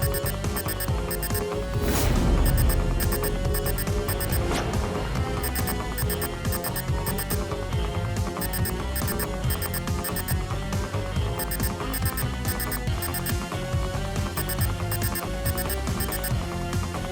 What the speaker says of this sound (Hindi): ये बॉम्ब के बीप की आवाज नहीं है, ये कुछ और ही चक्कर है।